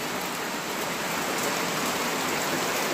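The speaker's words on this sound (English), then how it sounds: "It's raining." Steady, dense rain hisses evenly throughout over an areca nut plantation in Khumtsu Village, Wokha District, a constant wash of drops with no other sounds standing out.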